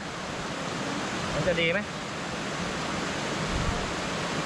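A steady broadband rush of water from a waterfall fills the whole stretch at moderate level, with a person speaking briefly over it.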